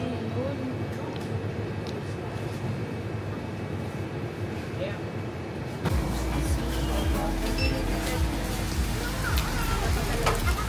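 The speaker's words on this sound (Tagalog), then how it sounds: "It's raining." Rain falls steadily in Saigon as a broad hiss with scattered drops. It gets noticeably louder and heavier about halfway through, and voices can be heard in the background.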